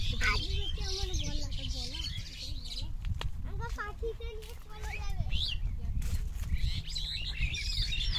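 Many birds chirp and call from nests hidden among hibiscus plants in a flower field, a busy chatter of tweets under constant background crowd noise and voices.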